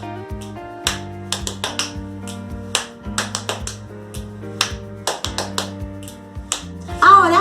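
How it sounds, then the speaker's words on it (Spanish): Body percussion practice: crisp finger snaps, hand claps and quick pats on the thighs, struck one at a time in a repeating counted pattern over a steady sustained accompaniment, close and clear. "Ahora cambia y va a ser 4 palmaditas rápidas en las piernas. 1, 2, 3, fa. Chasquido, aplauso."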